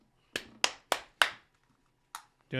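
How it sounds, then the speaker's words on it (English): Podcast hosts clap for themselves indoors: four sharp, close hand claps in quick succession, a pause, then one more clap before a voice begins. "Just applauding for us."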